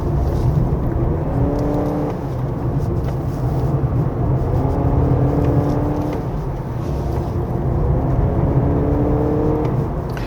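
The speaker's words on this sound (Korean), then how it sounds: "얘가 액티브 사운드 컨트롤이 있다고 하는데 이게 스포츠 모드에서만 되네요" A 2025 Honda CR-V Hybrid 4WD in sport mode, its active sound control piping in a synthetic V6-like engine note, heard from inside the cabin on a winding road as a steady droning hum that swells and falls with throttle.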